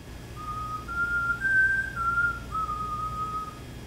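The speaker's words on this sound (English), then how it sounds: "I'm whistling just one part, melody" A single person whistles a melody alone, a clear pure tone gliding between sustained notes over a quiet background for a few seconds.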